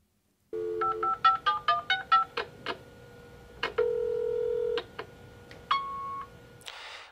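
A telephone line plays a quick run of rhythmic dialing beeps, then several longer sustained tones and one short final tone before an answering machine message in a German listening exercise. The tones are clean and alone, with no talking.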